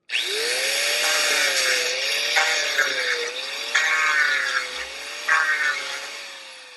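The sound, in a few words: sanding a wood knot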